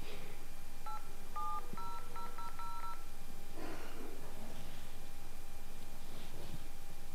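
A phone being dialed produces a quick series of separate dialing beeps, then faint rustling and background noise with no voices.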